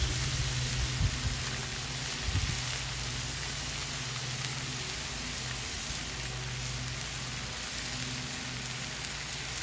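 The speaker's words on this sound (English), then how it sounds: "Throw on your onions and peppers." Onions and peppers sizzle on a Blackstone griddle, a steady dense hiss like light rain running throughout, with a couple of faint clatters early on.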